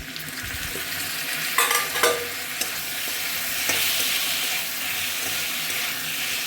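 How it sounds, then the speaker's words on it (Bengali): A medium onion fries in a pan of oil while preparing a taro stem dish, a steady moderate sizzle with a few spatula scrapes and stirring knocks early on. "পেঁয়াজটাকে একটু ভেজে নেব।"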